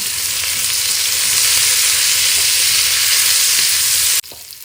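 Potato and cauliflower pieces seasoned with salt and turmeric fry in a pan with a loud, steady, close sizzle that runs unbroken, then cuts sharply to a much quieter sizzle near the end.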